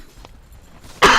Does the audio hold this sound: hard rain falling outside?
no